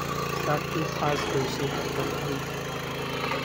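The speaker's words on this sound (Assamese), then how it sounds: "এখন ট্ৰেক্টৰ চাক ট্ৰেক্টৰ সৰু ট্ৰেক্টৰ নতুন নতুনকৈ ওলাইছে" A new small tractor's engine runs with a steady, rough mid-pitched chug close by, continuing throughout while a person talks over it.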